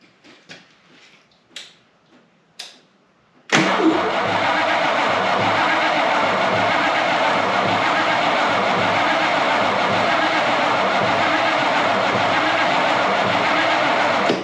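1955 Hemi 331 V8 barn-find engine: a few short cranking bursts, then a loud, steady whirring drone that runs without a break to the end, close by.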